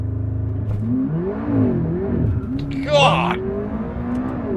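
A McLaren 12C launch-mode start on gravel brings a rising engine roar with shifting revs that bogs slightly, heard from inside the car as a voice exclaims partway through.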